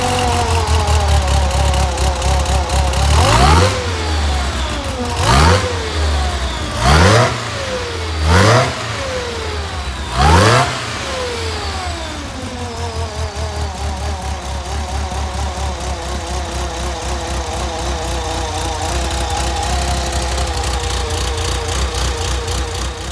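A vintage VW Beetle engine fitted with a supercharger idles loudly nearby, then revs in five sharp rising bursts before settling back into a steady, throbbing idle.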